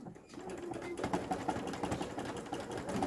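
A sewing machine stitches a selected decorative pattern, running steadily and close by with a busy mechanical chatter and small rhythmic variations as the fabric is guided by hand.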